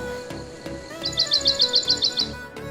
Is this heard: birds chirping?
yes